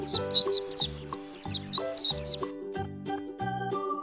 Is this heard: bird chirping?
yes